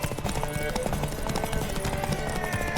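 Horse hooves clip-clop in a steady, rapid rhythm in The Witcher 3 video game, close and continuous under other game sounds.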